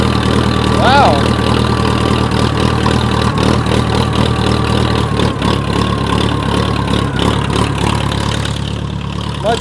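A Case 430 tractor engine runs steadily after an ether-assisted start, a loud, even diesel drone close by with a constant low rumble, with a voice briefly heard over it.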